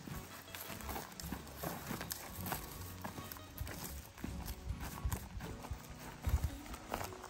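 A Pampa filly walks on a lead, its hooves striking in an uneven clip-clop over ground noise and rustling at a fairly quiet level.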